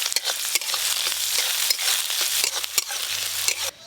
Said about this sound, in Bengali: কড়াতে 5 ফোড়ন দিয়ে দেবো